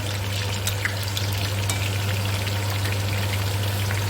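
Turnips frying in oil in a pan for turnip korma, a steady, close hiss and sizzle with faint crackles, continuous and even under a low electrical hum.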